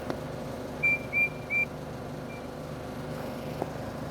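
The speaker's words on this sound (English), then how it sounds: "Percy blew his whistle to get the guard ready" Percy the engine toots his steam whistle three short, bright times in quick succession at moderate volume over a low rumbling background, with a faint fourth peep after.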